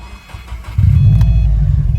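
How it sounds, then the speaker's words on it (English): A 2013 Subaru WRX hatchback cranks briefly, then catches and settles into a loud, deep exhaust rumble that stays steady and close. "let's start it up just so you can hear the exhaust"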